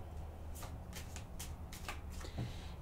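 Tarot cards shuffled by hand in a few quick riffling bursts, close and fairly soft, with small pauses between the card flicks and no talking.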